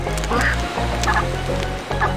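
Cartoon geese honk repeatedly in a Reksio adventure game, a few nasal calls spaced about half a second apart over a steady, loud low background.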